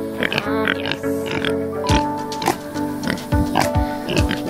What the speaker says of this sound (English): let's say good night to the pigs